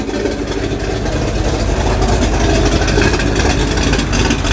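Classic cars idle and pull away in a convoy leaving the Crewe Vagrants ground, a loud, close, continuous low engine rumble with no voices over it.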